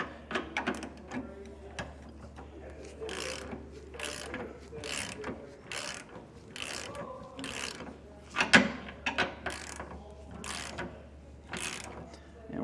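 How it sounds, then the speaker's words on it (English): A ratchet with a 3/4 inch socket and 2-inch extension tightens the center bolt joining an equalizer to its hanger on a MORryde X-Factor crossmember, giving a series of rhythmic close-up clicking strokes with short pauses between them. "Now we're going to tighten down that center bolt that attaches our equalizer to our hanger, and I'm going to be using a 3/4 inch socket along with a 2-inch extension."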